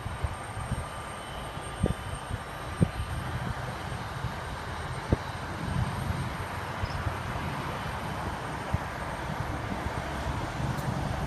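A small Delta passenger plane bound for LAX pulls away, giving a steady, distant low engine rumble with no one speaking.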